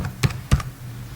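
Typing on a computer keyboard during an Excel lesson: two distinct keystroke clusters close together, fairly near, with a quiet room behind and no talk.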